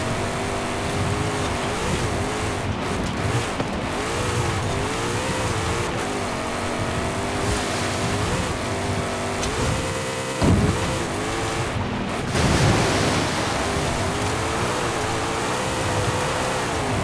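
Racing cars in Forza Horizon 5 during a Gauntlet race, a high-powered rear-wheel-drive car among them, with steady loud engine drone and tyre noise throughout, pitch rising and falling as gears shift, a few brief louder bursts near the end.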